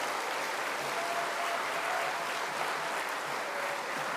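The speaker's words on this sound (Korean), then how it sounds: "목사님 나오실 때 박수로 한번 맞이해 주시면 감사하겠습니다." Even, sustained applause from a church summer-camp congregation welcoming a pastor to the pulpit, moderately soft and continuous with no talk over it.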